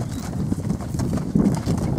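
Hooves of a dun roan Quarter Horse clop in a quick, even rhythm close by, with faint bird cooing in the background.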